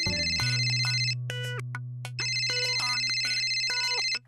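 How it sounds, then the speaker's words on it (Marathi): A phone ringtone for an incoming call plays loudly, a repeating electronic melody with a short break partway through, heard alone. "अरे डॉलीबाईंचा फोन आहे."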